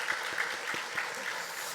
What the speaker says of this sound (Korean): 다시 한번 하나님께 박수를 확실히 합시다.